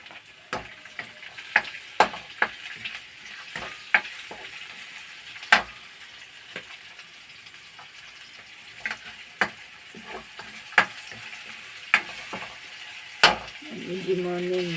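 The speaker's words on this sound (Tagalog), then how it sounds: "Igisa lang ako ng gulay. Simpleng gulay lang," Vegetables sautéing in a home kitchen pan, a steady sizzle broken by sharp clicks and taps of a utensil stirring, heard up close, with a brief voice at the very end.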